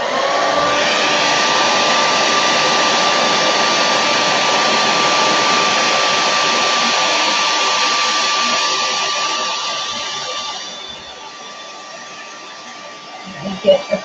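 A hair dryer blows steadily on a flower bouquet, a loud, even whoosh that runs about ten seconds and then switches off, leaving quiet room sound with a couple of small knocks at the end.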